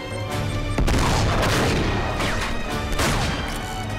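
A grenade detonates in the Uncharted 3: Drake's Deception game with a loud, close boom, followed by crashing debris and bursts of gunfire that continue throughout.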